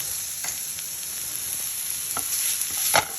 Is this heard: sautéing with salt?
yes